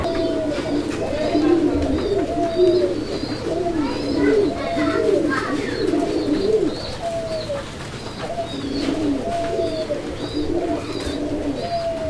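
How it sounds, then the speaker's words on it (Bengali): A pair of Bombay pigeons cooing repeatedly up close, with rolling, throaty calls in overlapping bursts over a low background hum. "বোম্বাই এই জোড়াটি কিন্তু প্রচুর ডাকাডাকি করতেছে"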